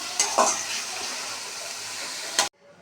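Masala gravy being stirred in a pan just after water is added, a close, continuous wet sizzle and sloshing with a couple of utensil knocks before it cuts off abruptly near the end.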